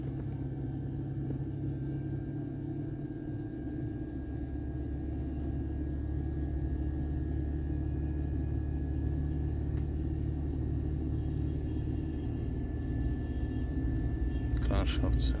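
Steady low engine rumble from a Mercedes-Benz with a crankshaft sensor fault, held up as the gas pedal stays pressed in a workshop, droning continuously and close with little change in pitch.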